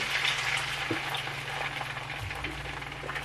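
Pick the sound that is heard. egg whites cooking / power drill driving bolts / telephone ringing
egg whites cooking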